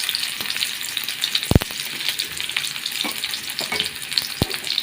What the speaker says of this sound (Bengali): পরিমাণ মতো তেল দিয়ে নিলাম, পেঁয়াজ কুচি দিয়ে দিলাম